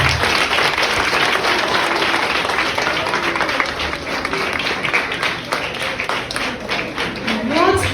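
Steady, dense applause from an audience at a talk on drug abuse, filling the room at a constant level for the whole stretch, with a voice faintly rising near the end.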